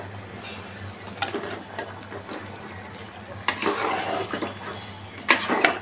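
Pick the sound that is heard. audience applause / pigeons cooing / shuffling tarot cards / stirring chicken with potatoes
stirring chicken with potatoes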